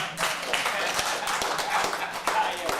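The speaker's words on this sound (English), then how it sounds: "come on, let's clap for her" An audience at a retirement talk claps for a shy woman, scattered hands giving a brief, moderately loud round of applause with some voices mixed in.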